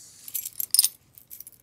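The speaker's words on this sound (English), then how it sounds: "Car keys," Car keys jangle and clink in several short bursts, close and fairly quiet, with a brighter shake near the middle and lighter rattles after it.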